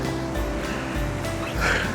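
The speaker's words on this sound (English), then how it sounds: "A little creek." A small wet mountain creek flows beside a hiking trail near Lake Isabel in the Colorado mountains after hail, giving a steady, broad rushing murmur of water that swells slightly near the end, with no talking.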